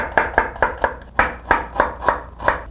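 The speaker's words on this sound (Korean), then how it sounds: "마늘하고 생강편이 들어가는데 편편히 썰어 보도록 할게요" A knife slices garlic and ginger into thin flat pieces on a cutting board, giving about ten crisp, evenly spaced chops, close and loud, with no talking.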